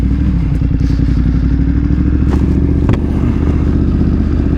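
A 2022 BMW F900R motorcycle engine runs hard during a ride, giving a loud, steady, close growl with a pulsing rhythm and a couple of brief clicks or clatters.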